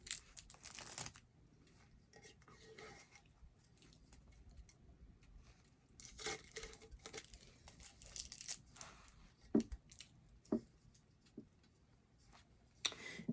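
Adhesive tape is torn off a tumbler in a few quick, quiet ripping bursts separated by near silence, with small crinkles and ticks between pulls.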